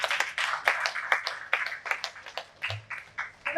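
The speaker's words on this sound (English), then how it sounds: "Please let's keep clapping." Audience members at a Nigerian young entrepreneurs awards ceremony clap quietly and unevenly, a sparse handful of distinct hand claps scattered across a few seconds.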